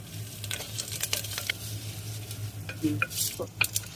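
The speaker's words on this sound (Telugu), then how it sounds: "ఇప్పుడు తాలింపు బాగా ఎగిపోయింది" Spices sizzling in hot oil as a tempering for sambar in a clay pot, with soft steady frying crackle, scattered sharp pops and spatters, and a few scraping stirs against the pot.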